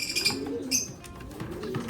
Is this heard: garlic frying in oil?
no